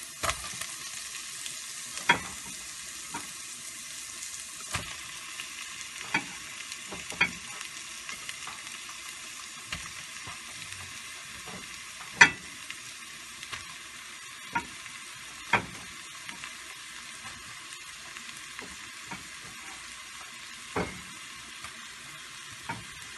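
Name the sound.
stirring mashed potatoes with ginger, garlic and shrimp in a frying pan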